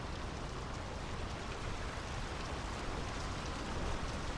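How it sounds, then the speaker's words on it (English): Rain in the video game Draugen, a dense, steady wash of falling rain that stays even and unbroken for several seconds with no voices. "The rain's picking up."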